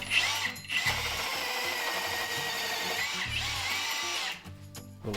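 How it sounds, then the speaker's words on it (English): An angle grinder cuts metal on a 1968 Jeepster Commando, giving a loud, continuous high-pitched whine with brief dips and restarts as it bites into the steel, close by in a workshop. "It's all right, we got grinders, Tom."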